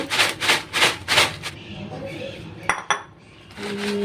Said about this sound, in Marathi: आता हे आपण मस्त ढवळून घेऊ